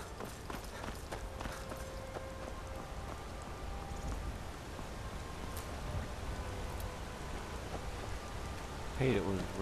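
Rain falls in the video game Skyrim as a soft, constant hiss of drops, faint and steady throughout, with a few scattered footstep-like knocks and a brief louder rustle near the end.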